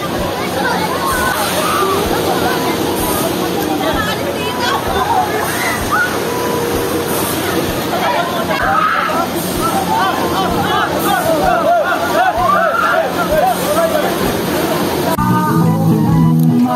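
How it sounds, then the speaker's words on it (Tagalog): Waves in an artificial wave pool at the Cool Waves resort slosh and crash continuously under loud, overlapping people's voices and shouting. "Grabe yung wave dito sa Cool Waves mga kuns."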